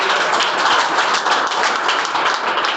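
Clapping from an audience at a sales training event, a dense, steady patter of many hands at close range with no clear voices over it.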